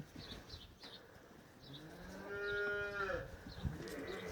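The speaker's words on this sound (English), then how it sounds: "The little bleating noises that they use" A single drawn-out bleat from a lamb or ewe in a lambing barn, rising and wavering over a second or so, moderately near, against a faint background of other animals and soft barn noise.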